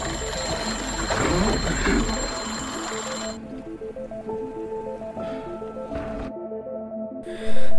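A telephone rings in a film scene, a repeated electronic ring pattern over low background ambience, ending with a louder burst of sound.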